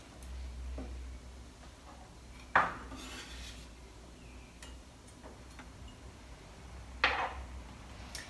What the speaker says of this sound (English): Next, we want to finely chop some garlic, just 1 clove.